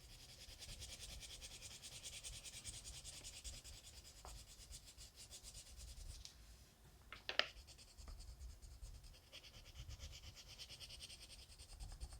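Colored pencil burnishes across paper with soft, continuous scratchy rubbing strokes, very quiet and close, with a small tap partway through.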